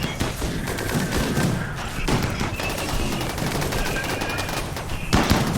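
Mortar volley from the RimWorld video game: a dense, continuous barrage of overlapping booms and crackling bursts that stays loud and steady for several seconds.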